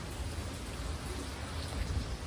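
Heavy rain pouring down steadily, a dense, even roar of drops with no pauses, close and continuous.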